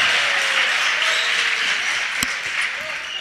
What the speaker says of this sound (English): And fans applauding the effort from the SaberCats on the offensive glass.